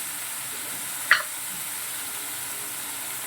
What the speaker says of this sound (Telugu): వంకాయ ముక్కలు అన్నీ వేసేసుకొని చాలా బాగుంటుంది వంకాయ ఫ్రై.